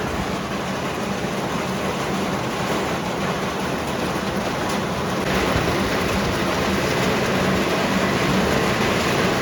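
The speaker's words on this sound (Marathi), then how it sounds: "पाऊस आलाय म्हणजे पाऊस कडक एकदम" Heavy rain pours down in Sheldi, Khed, in a dense, continuous hiss, loud and steady, growing slightly stronger partway through.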